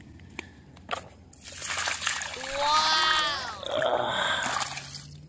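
A night fishing catch is poured out with water, a sustained close splashing and sloshing over a few seconds, with a voice and other talk heard around it.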